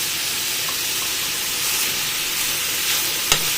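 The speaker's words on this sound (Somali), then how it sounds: "beerka aad ha ukaga shiilin" Liver frying in a pan for a Somali breakfast, a steady close sizzle and hiss with bubbling steam throughout, and one small sharp clink near the end.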